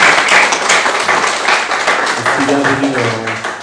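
Church congregation clapping after a call to applaud during announcements and offerings, dense steady applause with voices mixed in and a brief tonal hum near the end.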